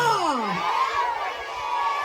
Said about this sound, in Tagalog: Malakas na palakpakan, sigawan po po sa bahay!